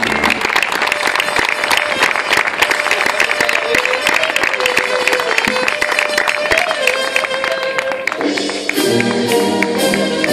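At a 2024 tribute to bars and cantinas in Barrial de Gáldar, a crowd applauds loudly under prominent music, the clapping blending into a full, dense mix that continues the whole time.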